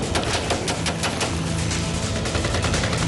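Rapid bursts of automatic gunfire crackle continuously and loudly, dense overlapping shots with no pauses.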